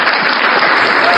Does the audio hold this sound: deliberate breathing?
no